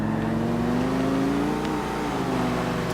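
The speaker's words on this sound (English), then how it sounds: "Now, I will attempt to spin this car out in the dirt." Oracle II car in GTA IV spinning out on dirt, its steady mid-pitched engine drone holding and rising slightly across the whole stretch, close and loud with no talking.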